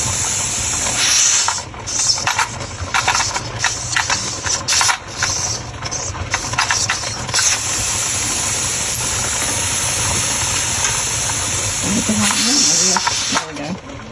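Steam hissing hard and steadily from the vent of a pressure canner full of potatoes, the sharp high rush broken by brief dips, with a voice speaking intermittently underneath.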